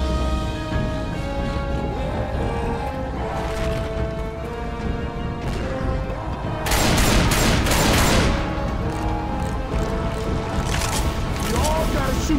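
Left 4 Dead 2 survivors fire at a Tank on the Cold Stream map, with sustained bursts of loud, close gunfire and chaotic game noise and voices, swelling into a dense volley midway.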